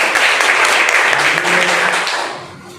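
A room full of people applauding a correct answer in a Hindi general-knowledge quiz session, loud dense clapping that holds steady and then thins out toward the end, with a voice faintly beneath.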